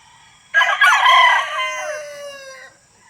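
A single rooster crows loudly and close among backyard hens, one long drawn-out call that tapers off, with no talk.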